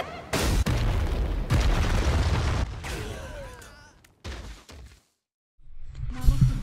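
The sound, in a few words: Nelliel's soul bomb attack in video game Bleach Brave Souls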